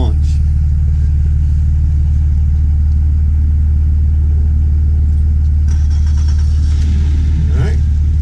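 An outboard boat motor runs at a steady idle with a low continuous rumble, close and loud throughout, with a brief rise in revs near the end.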